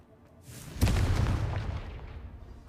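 A fiery Confringo spell blast in the Hogwarts Legacy game, a single sudden boom that rolls into a sustained rumbling burst and slowly fades, heard alone without talk.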